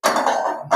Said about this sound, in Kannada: ನಾನು ಪಾತ್ರೆ ಇಟ್ಕೊಳ್ತಿದ್ದೀನಿ.